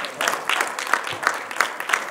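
An audience at a literary evening claps in a brief burst of applause, the claps coming in a fairly regular rhythm, moderately close.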